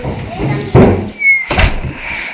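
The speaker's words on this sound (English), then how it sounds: "Shut the door." A household door is pushed shut with a sharp thump, followed by a second knock-like bang a moment later, close and loud amid brief talking.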